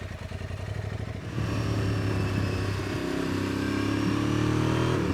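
Aprilia motorcycle with about 80 horsepower ridden along a bumpy English country road, the engine note climbing and droning steadily under acceleration, close and loud with wind noise.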